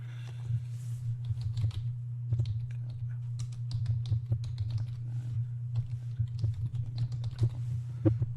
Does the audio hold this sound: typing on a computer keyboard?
yes